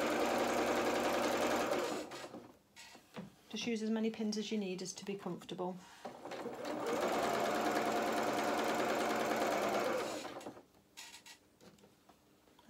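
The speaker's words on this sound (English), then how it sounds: "And then at the end, I'm just going to reverse stitch." A sewing machine stitches a trouser seam in loud, steady whirring runs at the start and again in the middle, with a person talking during the pause between.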